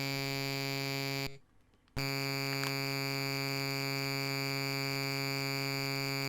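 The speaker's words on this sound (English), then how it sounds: "Lots of buzzing going on." Harsh buzzing tone in a prototype video game, a loud, constant electric buzz that drops out briefly for under a second and then resumes unchanged until the end.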